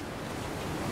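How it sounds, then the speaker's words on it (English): Broad, steady wash of surf with pounding ocean waves in the open Pacific around a sinking boat and wreckage, a continuous roar that swells slightly toward the end, with no voices. "nothing is safe from the endless waves"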